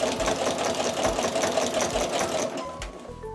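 A sewing machine stitches a jelly roll rug, running as a fast, continuous mechanical whir with rapid ticking for nearly three seconds before slowing and easing off near the end.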